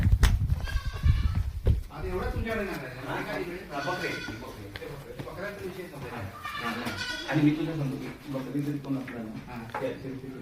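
Goats bleat repeatedly at close range on a goat farm, several overlapping wavering calls, with people talking among them and a short clattering noise at the start.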